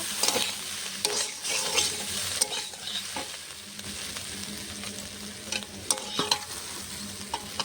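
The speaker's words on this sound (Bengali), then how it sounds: "মাছ দিয়েছি আর কিছুক্ষণ সময় 2-4 মিনিট আর ভাজবো, তাহলে হয়ে যাবে।" Small fish chorchori frying in a pan, with a steady sizzle under repeated spatula stirring and scraping, some louder clacks against the pan near the end.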